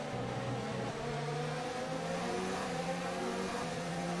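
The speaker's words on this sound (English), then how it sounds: "We're up into the rich revs now to see if we can squeeze our way by" An F1 2019 race car engine holds a steady high drone in the video game, its pitch stepping up through the gears as it revs hard, continuous and close.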